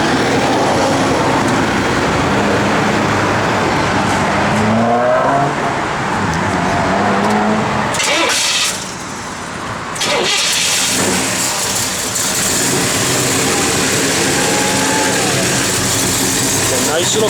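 A 1971 Chevrolet Chevelle SS V8 with an aftermarket cam idles loud and close, a dense rumbling drone with a brief dip in the middle, while a voice talks over it.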